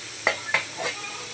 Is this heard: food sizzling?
yes